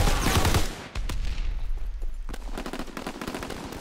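Gunfire in the World War II shooter game Call of Duty WWII, shooting through a wall: a loud heavy burst at the start, then a rapid string of sharp automatic shots rattling on to the end.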